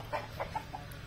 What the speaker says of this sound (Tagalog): Ang daming manok dito.